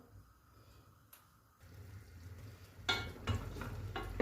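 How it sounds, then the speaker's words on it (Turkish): Sugar syrup for candied chestnuts bubbles and simmers in a pot with a soft, steady hiss that grows louder and more active toward the end. "Şerbetim kaynamaya başladı."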